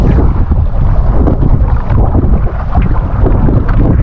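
Strong wind roars steadily across the microphone aboard a fishing boat at sea, a loud continuous buffeting rumble with no voices.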